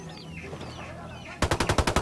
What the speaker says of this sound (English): Acabo de escuchar un tiro